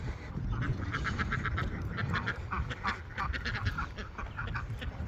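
Several ducks quack close by in a busy, overlapping chatter, rapid nasal calls repeating throughout, during a deep-bedding cleanout of a poultry coop.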